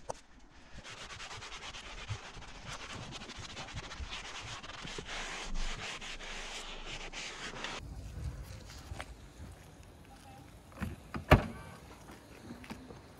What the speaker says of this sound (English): I wipe down the rubber mats and put them back into the Porsche 911.